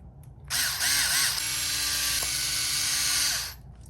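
Cordless power screw gun driving screws into a Traxxas Rustler 4X4 VXL differential case, one sustained whirring burst of about three seconds with a rising pitch at the start, close and loud with no talking.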